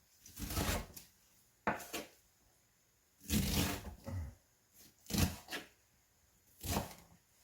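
A knife works through ingredients for a pork kimchi stew, with about six rough, scraping bursts of cutting on a board, close up and separated by short quiet gaps.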